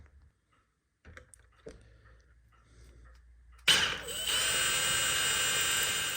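After a few quiet clicks and handling noises, an electric drill spins up sharply and runs steadily, boring holes in the case of a Welch spring regulator clock, close and continuous.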